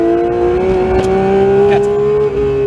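A Porsche 911 GT3 of the 992 generation runs at full throttle on a track, its engine a loud, sustained high-pitched wail that climbs gradually in pitch, heard close from inside with no pause.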